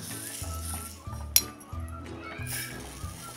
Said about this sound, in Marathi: आणि आता एकसारखी हलवत राहूया